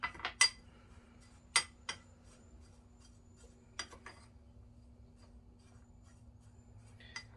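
A utensil works turkey seasoning together in a bowl, making a few sharp clinks and taps early on, then sparse light scrapes over a low steady hum in a quiet kitchen.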